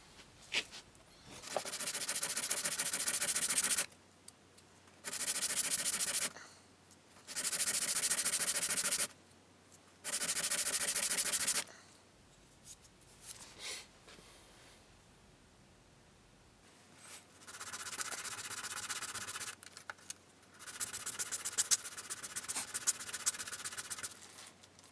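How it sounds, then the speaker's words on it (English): A stone whistle being sanded by hand with 120-grit sandpaper, giving several bursts of steady close rubbing and scratching, separated by short pauses, with a longer sanding stretch near the end. "So I'll sand right up to that line"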